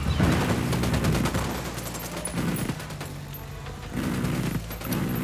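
Bursts of automatic gunfire from a Ghost Recon Wildlands firefight, loud and close, with rapid volleys that ease off briefly around the second and fourth seconds before resuming.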